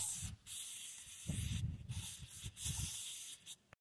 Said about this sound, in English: Today we're using carb cleaner.